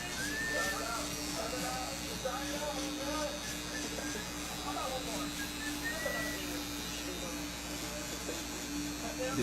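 An electric hair trimmer buzzes steadily at low level during a live barbershop haircut. Voices murmur and chatter over the constant hum.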